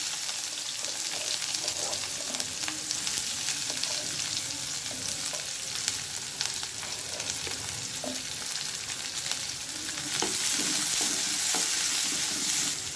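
Onions frying in hot oil with fennel seeds for a mushroom pepper fry, a continuous crackling sizzle with regular stirring scrapes throughout, growing slightly louder toward the end.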